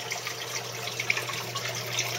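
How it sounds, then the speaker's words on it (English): Water gushes steadily out of an aquaponics bell siphon draining a 75-gallon tank, a quiet, continuous splashing and trickling with no speech. "see the water is flowing pretty good, piling up here, but it's actually flushing the tank"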